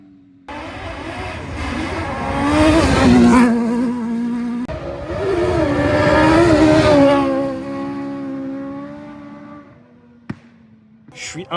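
A BMW E46 converted for off-road use tears past through mud, its engine roaring and revving hard in two long surges before fading, followed by a sharp knock and a brief burst of noise.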